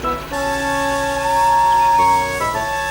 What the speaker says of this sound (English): Yes, I am, whistled Henry.